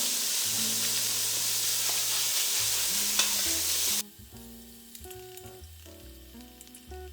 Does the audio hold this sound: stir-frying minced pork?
yes